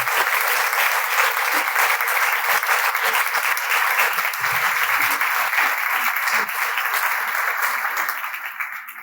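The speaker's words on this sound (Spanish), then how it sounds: "Recibámoslo, por favor, con un fuerte y caluroso aplauso." Strong, dense applause from a conference audience of teachers welcoming a guest speaker, steady and loud throughout before beginning to thin out and fade near the end.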